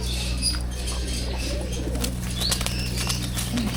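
Pigeons' wings flap and flutter close by in short bursts over a constant low mechanical hum.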